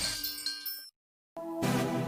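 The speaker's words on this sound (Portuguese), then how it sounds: "Nossos apresentadores vão tocar o sino ao vivo." A bright bell rings out live on a television broadcast, with clear metallic ding tones, a brief silent gap, then a fuller resonant strike that sustains.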